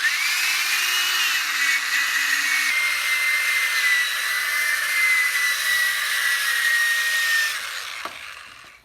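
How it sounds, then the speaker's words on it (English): A power drill polishing a headlight during restoration whirs steadily at a high, even pitch for several seconds, close up, then winds down near the end. "You got to keep the drill slow in this process"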